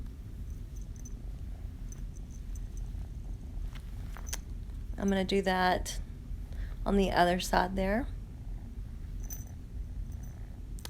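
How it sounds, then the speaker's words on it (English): A kitten purrs steadily and softly close by throughout, a low continuous rumble, while a person talks briefly partway through. "If you hear purring, it's because of this kitten I have."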